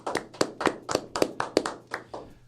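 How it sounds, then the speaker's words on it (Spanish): Claps welcoming a guest into a radio studio, around ten distinct, close, sharp hand claps in an uneven rhythm, loud and dry, with no crowd behind them, fading slightly toward the end. "Le voy a dar la bienvenida con un gran aplauso"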